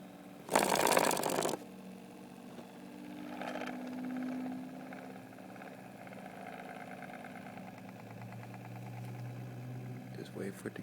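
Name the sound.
Bendini pulse motor spinning up to speed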